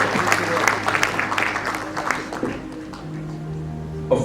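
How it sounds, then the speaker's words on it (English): Audience applause at a book launch, a steady patter of clapping from a seated crowd for the first couple of seconds, fading out as a speaker's voice carries on over a hall PA. "Another round of applause for Weshiga."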